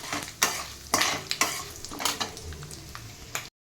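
Peanuts frying in oil in a pan for mango chitranna, with a soft sizzle beneath a handful of sharp, close spoon scrapes and stirs coming every half second or so, and no talking.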